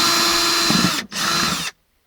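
A power drill bores holes in a cheap, thin plastic bucket: a loud, steady high-pitched whine that dips briefly halfway through, resumes, then cuts off abruptly into silence.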